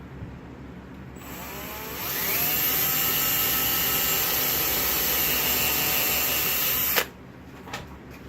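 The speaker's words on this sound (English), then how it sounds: "And then pre-drill." A power drill pre-drills a hole for mounting an RV or marine drawer catch, spinning up with a rising whine, holding a loud steady high-pitched drone for about five seconds, then stopping sharply.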